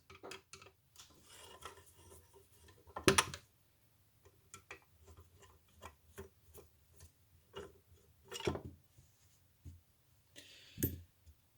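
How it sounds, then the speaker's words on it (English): A Phillips screwdriver turns the two butt plate screws on a Winchester 840 / Cooey 84 rifle, giving faint scraping and ticking rasps in short bursts with a few sharper clicks, close and otherwise quiet. "take off the butt plate. It's a Phillips screwdriver, 2 screws."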